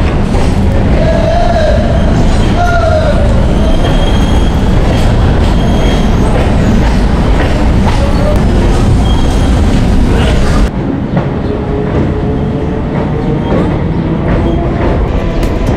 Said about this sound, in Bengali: একদম এক্স্যাক্ট টাইমে ছেড়ে দিয়েছে শিয়ালদা হাসনাবাদ লোকাল